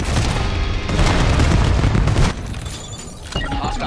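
Cluster strike explosions in Call of Duty Black Ops 7 boom loudly and repeatedly in a dense barrage for about two seconds, then cut to quieter background game sounds and scattered pops.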